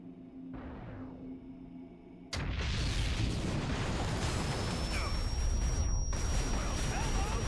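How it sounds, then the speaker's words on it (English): A heavy blast of airstrike explosions from the Titan war machine in the video game XCOM erupts suddenly after a quieter stretch, then rumbles on as a loud, continuous roar of debris and fire. "Now he can command its airstrikes just like an agent."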